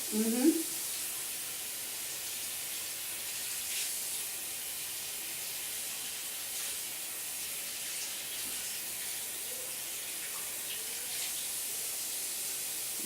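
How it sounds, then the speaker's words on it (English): Steady hissing spray of running tap water as hands are rinsed, continuous and fairly quiet, with a brief soft voice at the very start. "when you're all ready to go, you're going to rinse your hands"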